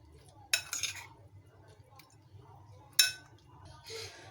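A spoon clinks against a bowl while chicken is mixed into a spicy tikka marinade, with two distinct metallic knocks among softer scraping and stirring, all fairly quiet.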